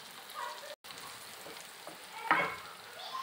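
Bitter gourd pieces fry in a pan with a continuous close sizzle, broken by a brief gap and one sharper scrape of stirring, with no voice over it.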